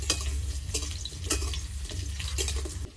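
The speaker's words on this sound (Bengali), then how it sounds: "আলু কটা ভেজে নিই" Potatoes fry in a pan during home cooking, a steady sizzle with a low rumbling bed and occasional sharp scraping stirs, close and fairly loud with no talking.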